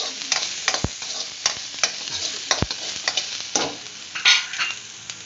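Stirring ingredients in a hot pan for a flounder dish, with frequent scrapes and clinks of a utensil over a light sizzle, close and busy with no voices.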